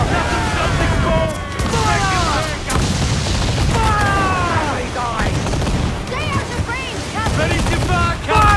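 Naval cannons boom again and again in a sea battle in Assassin's Creed IV Black Flag, loud and dense over the wash of ocean, with crew voices shouting across the barrage.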